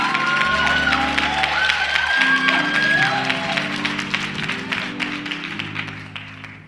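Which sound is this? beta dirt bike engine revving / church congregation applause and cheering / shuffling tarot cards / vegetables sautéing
church congregation applause and cheering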